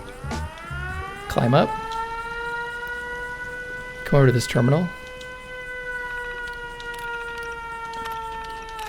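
Alarm siren at a raider outpost in Fallout 76, a steady sustained tonal wail running throughout, with someone speaking briefly over it in two short bursts.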